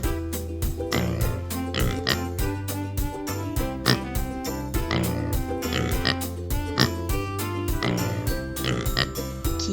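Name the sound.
pig oinking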